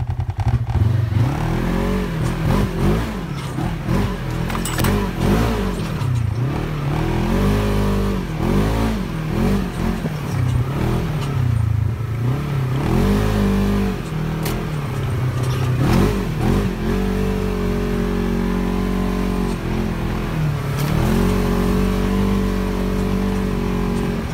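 Polaris RZR 1000XP side-by-side engine revving loudly and continuously while driving through the woods, with rising and falling throttle surges and clattering over rough ground, close to the microphone.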